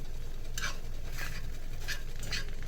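Bean soup ingredients stir frying in a frying pan, giving a steady soft sizzle with a few brief scraping stirs spaced about half a second apart, close and fairly quiet.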